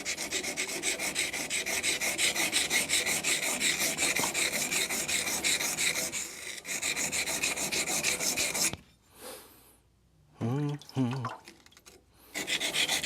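Newly forged knife bevel rasping back and forth on a wet King 120 grit whetstone in fast, steady strokes, close up, stopping briefly for quieter handling sounds before the grinding resumes.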